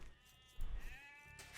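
Sheep bleat in the Age of Empires II video game on the Arabia map during a ranked 1v1 match, two brief, quiet calls separated by a pause with soft background sound.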